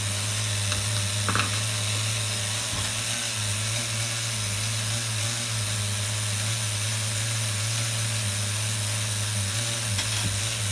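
A nitro engine on an HPI RS4 Nitro F150 RC car idles steadily on a bench with no airflow, a constant buzzing drone at close range and even loudness throughout.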